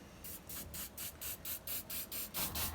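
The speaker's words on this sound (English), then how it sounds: "I'm just going to spray it." A spray can of clear gloss glaze hisses in short, regular bursts, roughly ten quick sprays in a row, each a breathy high-pitched rush with brief gaps between, fairly close and moderately loud in a quiet room.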